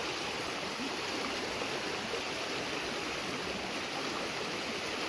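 Floodwater rushing after heavy rain in a banana grove carrying broken branches, a loud continuous broadband roar of flowing water, steady throughout with no voices.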